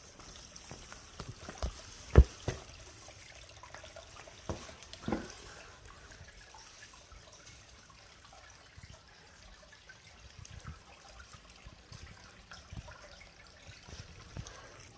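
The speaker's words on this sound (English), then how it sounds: "The water's coming right out of the building." Spring water flows out of a building corner at a state park in a quiet trickle and dribble, with a few louder splashes early on and faint bubbling throughout.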